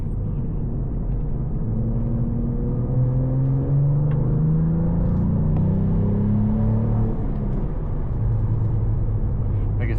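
Cadillac CT4-V Blackwing driven hard with a loud, sustained engine drone whose pitch climbs and falls through gear changes, heard from inside the cabin.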